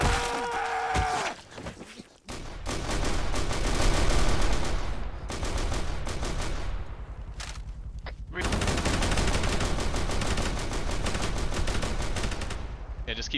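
Gunfire in a Warhammer video game, dense bursts of rapid automatic shots and volleys filling most of the stretch, loud and close, with a brief lull early on.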